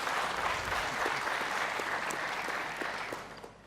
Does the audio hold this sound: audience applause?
yes